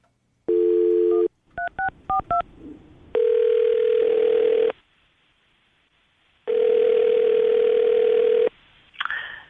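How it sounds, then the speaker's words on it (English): A telephone line tone sounds, then a quick run of dialing beeps, followed by two long, loud ringback tones separated by a silent pause. "We're going to call him right now and see if we can get him on the phone"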